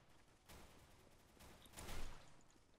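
Gunfire in Counter-Strike: Global Offensive, a few distant, faint bursts of shots: a sharp crack early, another burst midway and a louder cluster near the end, with no talk.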